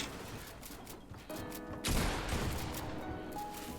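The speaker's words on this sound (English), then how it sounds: "Pretty sure Crackly is the one that gets a clean shot right here." A gunshot in a competitive video game scrim rings out midway as a sharp, moderately loud crack, with a steady background of game sounds around it.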